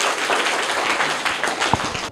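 An audience at a children's quiz competition applauds, a dense steady wash of many hands clapping for a couple of seconds, fairly loud and continuous.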